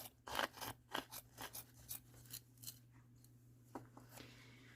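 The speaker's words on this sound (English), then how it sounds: "we're going to cut a straight line up the felt this way," Scissors snip through felt while cutting a straight line up a cone for a spring gnome craft, a steady series of close, crisp cuts that slow and thin out toward the end over a faint constant hum.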